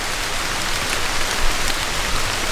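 Rain falls steadily through Wisconsin woods in October, a dense, even hiss of drops pattering on leaves and surfaces, close and constant with no voices.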